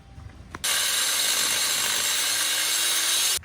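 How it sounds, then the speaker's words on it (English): An angle grinder on metal grinds down the old steering mount of a Jeep JK, a loud continuous high-pitched whine lasting about three seconds after a short quiet start. "we've got the old mount grinded down, cleaned up, paint removed, nice and flat"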